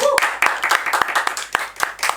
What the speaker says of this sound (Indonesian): Tepuk tangan dong buat semua